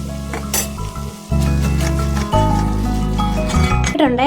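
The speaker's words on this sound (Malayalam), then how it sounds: "എന്നിട്ട് ഇതിന് നമുക്ക് നന്നായിട്ടൊന്ന് വാട്ടിയെടുക്കണം" Tomatoes sautéing with salt and turmeric in a pan for chutney sizzle and are stirred, with the utensil scraping now and then. Loud background music plays over the frying throughout.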